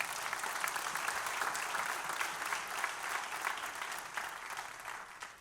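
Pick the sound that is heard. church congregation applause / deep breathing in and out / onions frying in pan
church congregation applause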